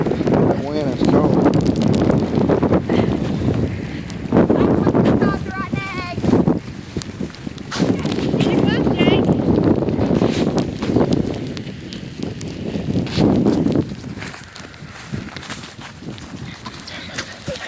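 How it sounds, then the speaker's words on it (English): Cold wind during an ice storm gusts and buffets the microphone in waves, with children and an adult talking and shouting over it throughout. "That wind is cold."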